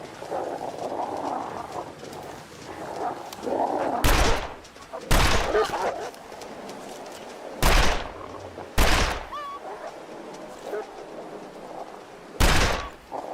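Five loud, sharp gunshots in The Long Dark, spaced several seconds apart against a quiet windy outdoor ambience with faint movement between shots.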